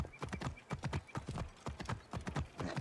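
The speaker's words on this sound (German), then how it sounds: "So, reiten wir da mal runter." Hooves of a galloping horse in the video game Assassin's Creed Origins pound in a fast, steady rhythm, loud and close, continuous throughout.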